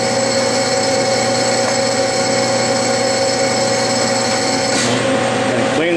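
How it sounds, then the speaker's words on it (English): A small countersink deburrs and chamfers a bore in a workpiece on a running lathe, giving a continuous scraping, rasping tone over the steady machine hum for about six seconds, with a brief shift near the end. "Take that little countersink"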